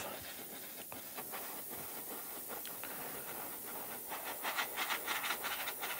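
Airbrush spraying lacquer paint onto a Corgi Bedford die-cast tractor unit model, a steady close hiss of air with soft pulsing bursts toward the end.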